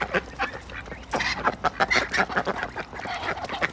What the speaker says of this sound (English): I'm out here feeding my ducks